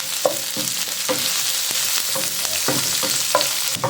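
Chopped onion and garlic sauté in a hot pan with a steady, close sizzle, broken by repeated scraping and stirring taps from a spatula.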